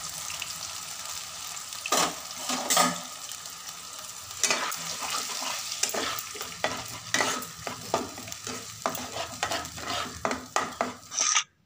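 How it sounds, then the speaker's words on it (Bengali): Whole garam masala and spice paste fry in refined oil, a continuous sizzle broken by repeated scraping stirs of a spoon against the pan, loud and close with no talk. "ফোড়নটা একটু ফ্রাই হয়ে যাওয়ার পর পেস্টটা দিয়ে দেব।"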